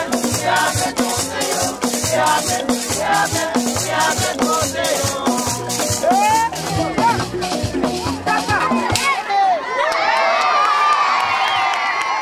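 A crowd at a village gathering in Obuklu cheers, whoops and laughs in reaction to local music, a dense sustained roar of many voices that drops away near the end to a few shouts and calls.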